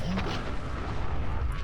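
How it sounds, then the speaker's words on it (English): Vertibird-mounted minigun fire in Fallout 4 makes a dense, continuous heavy rumble with low booming blasts throughout, loud and sustained with no clear gaps. "wait until you see the vertibird minigun"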